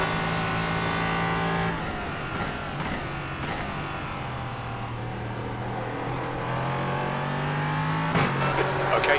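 A race car in a Le Mans racing video game hums steadily, its engine pitch rising and falling as it revs and shifts, with sharp bursts of other cars passing close by.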